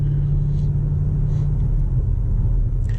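A 2021 BMW X5 M Competition engine drones close by while driving, a deep, steady rumble with a throaty, muscle-car-like low growl and no talking.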